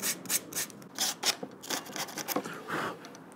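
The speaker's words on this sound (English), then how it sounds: "Just a little bit of sandpaper." Sandpaper is rubbed over a surface to scuff off mould release before gluing, producing quick, faint rasping strokes in an uneven rhythm, close to the microphone.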